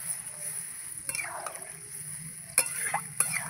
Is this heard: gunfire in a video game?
no